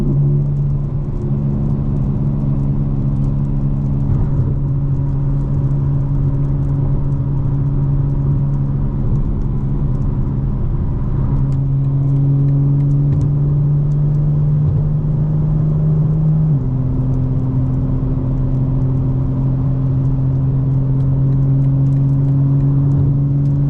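A 2025 BMW M4 Competition xDrive cruising at night, its engine holding a steady loud drone with a deep low hum and one clear shift in pitch partway through, over continuous road rumble and no talk.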